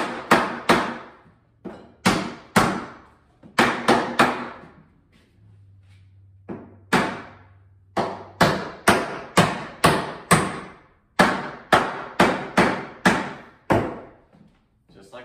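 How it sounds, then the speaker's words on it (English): A hammer pounds nails into a wooden board for a wall in a house, striking repeatedly in quick bursts of sharp, ringing knocks, pausing briefly between runs of blows, close and loud. "take your hammer and pound the nails the rest of the way in"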